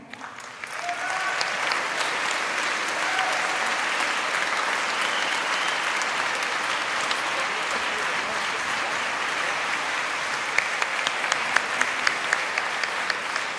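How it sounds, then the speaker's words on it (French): A concert audience applauds at an Alsace wind band festival featuring harmonie ensembles, with a dense, steady ovation from a large crowd at constant volume and a few sharper individual claps near the end. "Nous l'applaudissons."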